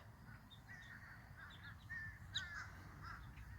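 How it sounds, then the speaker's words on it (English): Crows caw a few times at a distance over a low rumbling outdoor background at sunset near a house, the calls faint and scattered, one slightly louder caw standing out midway. "Crows."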